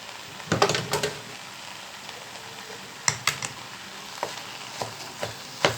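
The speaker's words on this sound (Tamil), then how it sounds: "இதெல்லாம் சேர்த்திட்டு நல்லா கலந்து கொடுக்கணும்" Vegetable masala mixture for veg patties being stirred in a pan over a low sizzle, with sharp clacks of the spoon against the pan coming in irregular clusters, then single spaced knocks.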